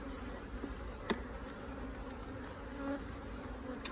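Honey bees buzz steadily around an open hive during an inspection, a close, continuous drone with a few sharper passes as individual bees fly near.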